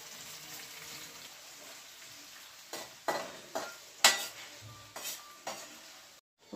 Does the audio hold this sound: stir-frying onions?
yes